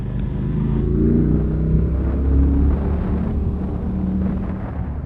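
V-twin motorcycle fitted with a Delkovich stubby exhaust, its engine giving a steady, loud, deep rumble that holds close and continuous throughout, rising slightly in the middle, with no voices.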